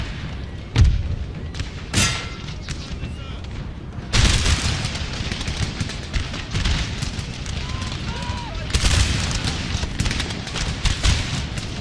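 Booming artillery volleys and crackling musket fire from a Napoleonic battle in the video game Napoleon Total War, set in Scotland, with heavy blasts at intervals and sustained rattling gunfire, under a voice.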